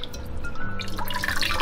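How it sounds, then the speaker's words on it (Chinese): Water draining and dripping off rinsed pork ribs for black bean sauce spareribs, a light trickle with scattered drips and splashes, close and fairly soft, with no voices. "先沥干一下水"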